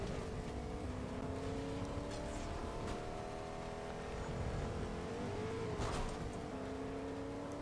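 Car engine in the Fortnite video game droning and revving steadily, with a few higher bursts, heard alone without talk.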